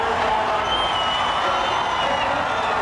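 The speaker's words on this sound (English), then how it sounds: "the crowd they are just really responding to this one" Spectators at Darlington during the 1985 Southern 500 NASCAR race cheer loudly in a continuous roar, a dense crowd sound with whoops and some clapping, steady and unbroken throughout.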